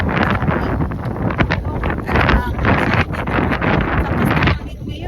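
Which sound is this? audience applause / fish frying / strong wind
strong wind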